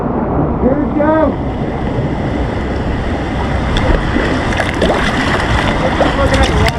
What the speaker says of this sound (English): Looking at the waterfall.